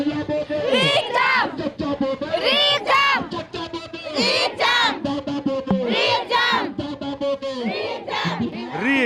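Large crowd of students at a re-exam protest chanting slogans in loud, rhythmic unison, with repeated shouted phrases rising and falling close by and no pause between bursts.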